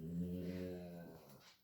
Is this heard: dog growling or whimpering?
yes